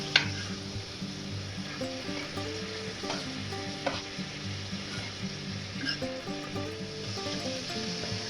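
Ground beef sizzling and frying with garlic in a large pan for a stir fry, a steady crackling hiss with occasional scraping stirs and clinks of a utensil, close, moderately quiet, and without speech.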